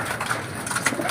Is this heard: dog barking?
no